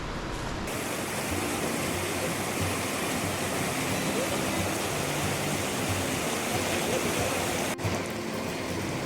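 The Amba river flows in a steady, loud, broadband rush during a monsoon trek near Umbarkhind, a continuous close wash of water with no pauses.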